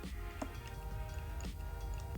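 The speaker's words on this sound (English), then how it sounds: "Exposure compensation sounds good." Faint, close clicks from the exposure compensation dial on a Nikon Zf camera, a few separate soft ticks spaced about a second apart over a low, quiet background.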